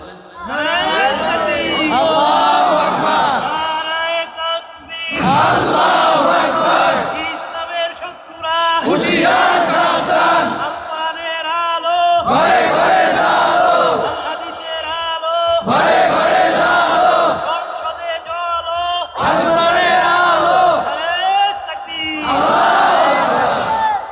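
A large crowd at a Bengali Islamic sermon gathering loudly shouts the takbir chant "Allahu Akbar" in about seven strong, evenly spaced call-and-response bursts, each with a short quiet gap after it.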